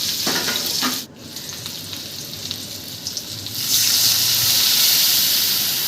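Water poured into a pan of sizzling spices for a Bengali dish of bitter gourd and lentil dumplings, a sudden loud hiss followed by steady frying sizzle and stirring scrapes that swell into a strong bubbling hiss, with no talk.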